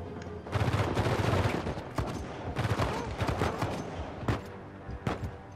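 Bursts of gunfire from a weapon in Uncharted 4, loud, dense volleys of rapid shots with short gaps between and sharp single cracks near the end, close and dominant.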